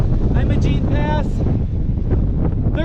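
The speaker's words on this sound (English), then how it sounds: "Man, I'm bummed at how windy it is up here." Strong wind gusts buffet the microphone at the 13,114-foot summit of Imogene Pass above Telluride, Colorado, a loud continuous low roar that swells and dips, with a voice talking faintly through it.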